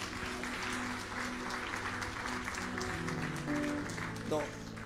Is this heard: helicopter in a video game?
no